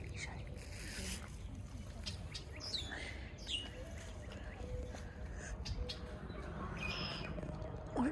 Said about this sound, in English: What birds are making that sound?